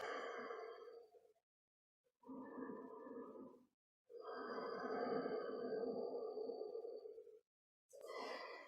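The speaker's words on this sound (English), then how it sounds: "Ujjayi breath" Slow, audible ocean-like Ujjayi yoga breaths come close up: four long hissing inhales and exhales separated by short silences, with the longest in the middle.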